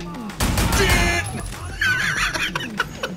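Bursts of gunfire from Winston's golden gun in the video game Sleeping Dogs, rapid loud shots mixed with someone talking and laughing over them.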